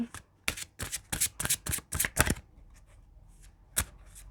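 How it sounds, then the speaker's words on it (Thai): Tarot cards shuffled by hand in a quick run of crisp, rhythmic bursts, then a pause with faint handling and one last snap of cards, close and fairly quiet. "ทีนี้ขอดูไพ่เมจิคอลไทม์หน่อยค่ะ"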